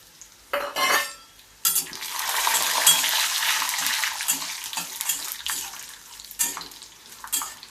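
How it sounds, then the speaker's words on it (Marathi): Raw peanuts dropped into hot tempering oil for poha, popping in with a sharp burst, then a steady bright sizzle with stirring and spoon clatter against the pan, close and unaccompanied by any talk. "सगळ्यात लास्ट फोडणी चांगली झालेली आहे शेंगदाणे घालूया"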